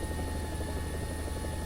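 Helicopter in a multiplayer shooter video game, a steady close rotor and engine drone with constant chopping thrum and whine, loud and unbroken throughout with no talk.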